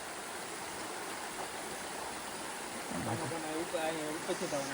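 Steady rushing water fills the whole clip, broadband and constant like a stream, with a voice talking over it in the second half.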